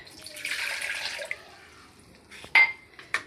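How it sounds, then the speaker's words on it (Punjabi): A glass of water pours briefly into a mixer jar, a soft splashing rush that fades, followed by a couple of clinks and knocks. "ਇਹਦੇ ਵਿੱਚ ਇੱਕ ਗਲਾਸ ਪਾਣੀ ਦਾ ਪਾ ਦਾਂਗੇ"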